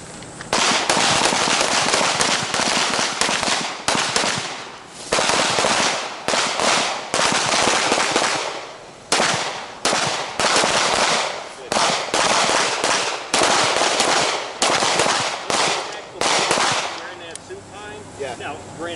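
Gunshots crack repeatedly at a shooting range during a firearms drill, loud and close, firing in rapid strings of several shots separated by brief pauses.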